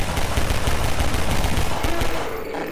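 Rapid gunfire in the video game Garry's Mod, a dense, loud burst of overlapping shots lasting a few seconds before tailing off.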